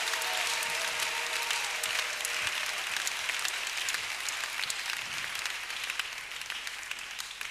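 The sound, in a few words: congregation applause in church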